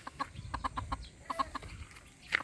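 Chickens cluck in short, repeated bursts nearby, with a brief louder squawk near the end.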